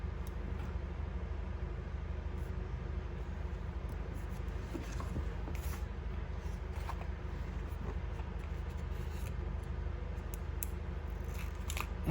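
A sheet of journal paper is cut in half with scissors for a Hobonichi 5-year planner, giving a few soft, close snips and crisp paper rustles over a quiet hum with no talk.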